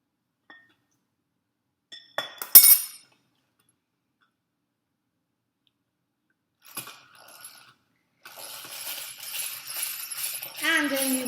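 Oil, vinegar and egg yolk mixed in a glass bowl give a few sharp clinks against the glass, then a softer, continuous scraping and sloshing of stirring that builds toward the end.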